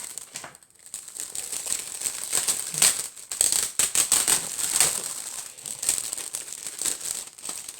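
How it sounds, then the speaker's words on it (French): Crisp gift wrapping paper crinkles and rustles steadily, with sharp rattling bursts as it is handled and pulled open up close. "je vais vous déballer tout ça"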